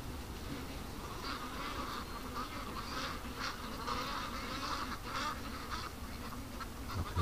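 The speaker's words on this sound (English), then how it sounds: "something just caused the ducks to come all back in a panic" Ducks kept for a charity flock give faint, scattered quacks at a distance over a constant hiss of outdoor noise, with no clear voices.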